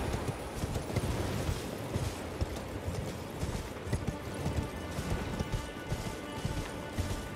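Hooves of a horse being ridden in Elden Ring, a quick steady clip-clop rhythm pounding continuously under a rough, noisy outdoor ambience, moderately faint and with no voices.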